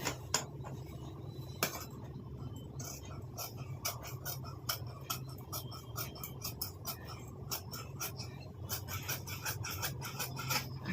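Scissors cutting blouse fabric: a close, quiet run of irregular snips and scraping clicks, blade against cloth, continuing steadily with no voices.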